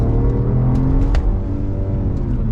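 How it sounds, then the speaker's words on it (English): A Volvo P3 car accelerates at full throttle, its engine giving a steady, loud rumbling roar close by throughout, with no talking. "Let's do full throttle real quick."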